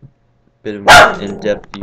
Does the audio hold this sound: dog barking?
yes